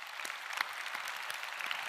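Applause from a church congregation at Yanggok Church, dense continuous clapping from many hands filling the space at moderate level, no talking over it.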